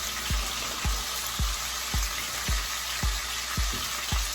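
A steak sears in a smoking-hot pan, giving a steady, loud sizzle that runs throughout, with soft low thumps recurring at a regular pace beneath it.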